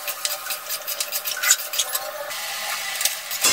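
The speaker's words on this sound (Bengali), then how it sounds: "এবার সব কিছু আবারও ভালো করে আমি মিশিয়ে নেব।" Chilli chicken with sauce and a pinch of sugar being stirred in a pan over medium heat, a steady scraping and light sizzling with soft spoon clatters, close and continuous, no voices.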